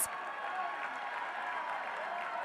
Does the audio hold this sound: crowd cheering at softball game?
yes